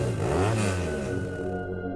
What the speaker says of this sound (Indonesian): suara motor berhenti di depan rumah